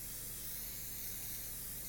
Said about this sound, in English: I'm going to spray the inside of this one bowl bread recipe